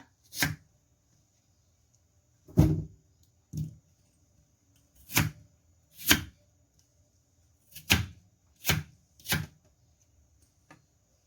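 A knife chops through potatoes on a board in eight or nine separate sharp strokes, each a crisp, close thunk with quiet pauses of uneven length between them.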